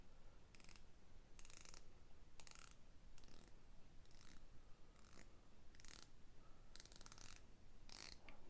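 Ceramic bezel on a Proxima Scuba Master diver watch turned in short bursts, each a quick run of crisp ratcheting clicks, close and quiet, about ten bursts in a row with no talk.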